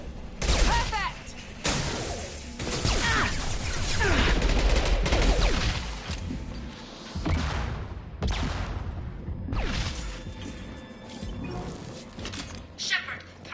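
Heavy gunfire from a Mass Effect 2 firefight, dense bursts and blasts crowding the scene in waves, with voices talking over the shooting.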